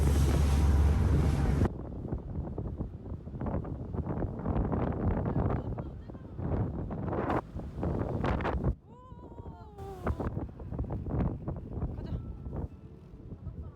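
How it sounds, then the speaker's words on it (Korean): Strong sea wind on the Jeju coast roars and buffets the microphone throughout, loud and continuous, with people talking and exclaiming over it. "무서운 바람,"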